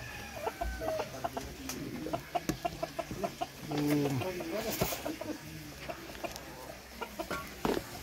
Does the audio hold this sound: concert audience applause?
no